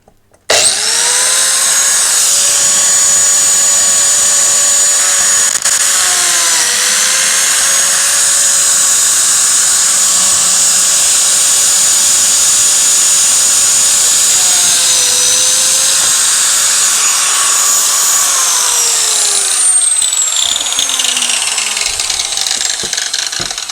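A biscuit joiner spins up and cuts slots in a wood panel, a loud, steady high whine close by that dips briefly in pitch under load twice before winding down at the end.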